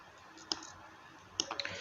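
Computer mouse clicks sound faintly during wedding jotter design work: one sharp click, then a quick cluster of three or four clicks a second later, all set against a quiet room hum.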